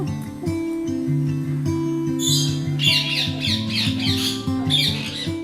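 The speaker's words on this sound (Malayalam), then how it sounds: "ഇതിനകത്ത് ഓരോ കൂട്ടിലും ഓരോ തരം പക്ഷികളാണ്" Caged birds, a different kind in each cage, let out a run of loud, harsh squawks in clustered bursts over a steady tonal hum in the background.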